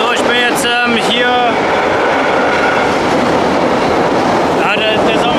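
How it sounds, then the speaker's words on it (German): A train rolls past close by beneath a railway bridge, loud continuous rumbling and clattering wheels with squealing tones at the start and end, with a voice speaking briefly over it. "So, der Zug ist gerade vorbeigefahren."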